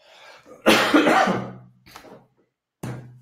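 Several coughs close by: a long harsh coughing fit, then two shorter coughs after brief pauses.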